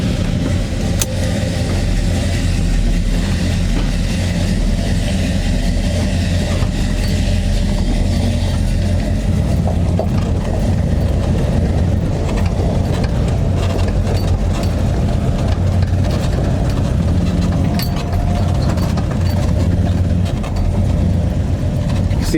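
A 1972 Chevrolet Chevelle SS engine runs close up, a deep steady idle rumble with a few small revs and clicks, continuous and loud with no talk.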